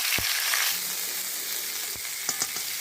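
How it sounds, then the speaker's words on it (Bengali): Lightly parboiled new potatoes fry in a pan with a bright, steady sizzle, broken by a few sharp scrapes and knocks of stirring. "আলুটা একটু ভাজা ভাজা করে নেবো আলুটা ভাজা ভাজা হয়ে গেছে"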